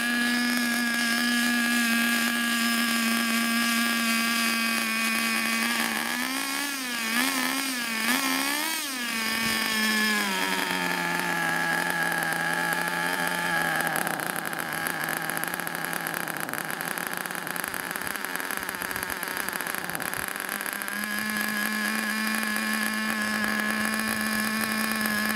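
Nitro RC drift car engine running with its wheels off, a continuous high buzzing whine that warbles through throttle blips midway before settling back to a steady idle.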